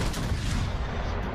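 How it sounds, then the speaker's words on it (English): Shells fire in a tank video game in a dense burst of booming, overlapping blasts and rumble, loud and continuous across a brief moment with no voices. "just firing shells all over the place in secondaries"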